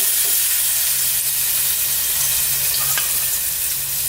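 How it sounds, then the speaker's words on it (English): Steady, loud sizzling and crackling of salmon frying skin side down in a hot pan, with a constant hiss and occasional pops, no voices. "And then I'll put the salmon in. Look how beautiful that is. So I put the skin side down first."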